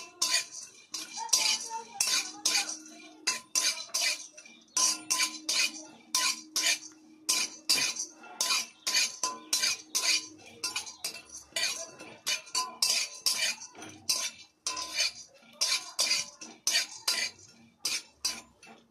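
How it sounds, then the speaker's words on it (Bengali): Repeated scraping and clinking of a metal spatula against a pan as melon seeds are dry roasted, stirred and tossed in quick irregular strokes. "চালমগজ হালকা ভেজে নিতে হবে।"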